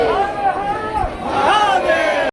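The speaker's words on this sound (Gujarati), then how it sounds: "અને અત્યારે ભીડ તો જો બહુ બધી ભીડ છે." A large crowd of devotees at Nageshwar Jyotirlinga temple, a close murmur of overlapping voices and chatter, loud and continuous, with one person talking nearby.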